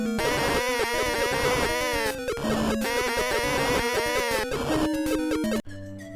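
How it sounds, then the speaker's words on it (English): Dragon boss in the Game Boy game Super Mario Land taking damage, a loud, harsh, warbling electronic squeal repeating in sweeping bursts for several seconds before cutting to a different chiptune tone. "He also makes this obnoxious sound whenever he takes damage."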